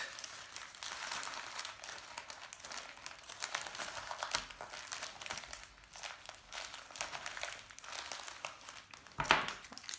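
Paper and tape are scrunched up by hand for papier-mâché, giving a continuous close crinkling and crunching texture with a sharper crackle near the end.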